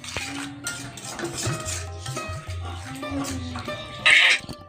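Food is stirred in a cooking pot, with close scraping and clinks of a utensil against the pot under continuous talking, ending in a sharper clatter near the end.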